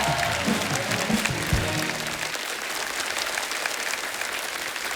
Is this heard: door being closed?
no